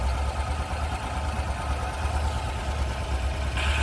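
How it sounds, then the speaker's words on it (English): An engine idles steadily while warming up, a loud, even low rumble with a slight clatter and no talk over it. "Engine's running good"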